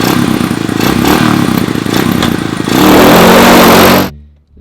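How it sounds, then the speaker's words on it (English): A 1982 Honda FT500 motorcycle engine fires up and runs loud and close, a rough, pulsing idle that swells into a fuller revving roar before cutting off abruptly. "The old 1982 Honda FT500? Yeah, baby! Let's fire this sucker up."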